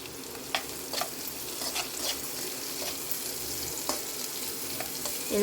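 Steady sizzle of onions and green chilies frying in a pan over medium heat, with a few soft clicks and stirs over the continuous hiss.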